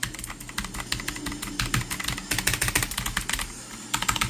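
Rapid clattering keystrokes on a computer keyboard, steady and close throughout, with a brief lull before a final burst.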